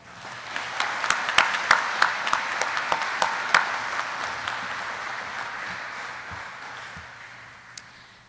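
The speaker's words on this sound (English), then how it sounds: "Let's give them all a round of applause" Applause from the audience at a US Air Force class graduation ceremony, a room of hands clapping with sharp individual claps standing out near the start, then thinning and fading toward the end.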